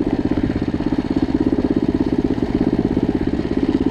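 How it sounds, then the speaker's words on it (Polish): A Loncin 110/125 motorcycle engine runs with a louder exhaust, a loud, close, rapid, even putter of firing pulses holding a steady idle-like pace throughout, with no talk. "Po prostu z wydechu słychać, że jest głośniejszy."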